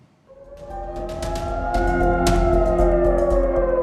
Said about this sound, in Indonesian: Sirine menyala saat serangan bom klaster Iran menghujani wilayah Israel Tengah Jumat malam waktu setempat